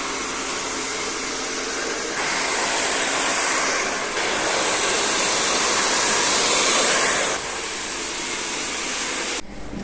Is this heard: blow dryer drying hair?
yes